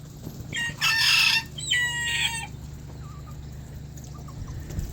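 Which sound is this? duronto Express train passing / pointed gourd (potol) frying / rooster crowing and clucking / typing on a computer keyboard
rooster crowing and clucking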